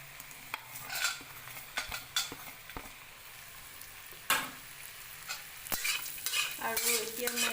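Peanut samosa stuffing fries in a pan with a soft background sizzle, broken by repeated sharp scrapes and clinks of a spoon stirring against the metal.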